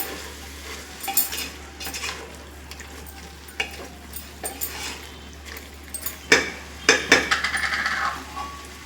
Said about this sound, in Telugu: వేసుకొని బాగా మిక్స్ చేయాలి.